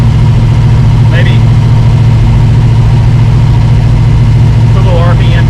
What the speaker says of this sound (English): Get some heat in the motor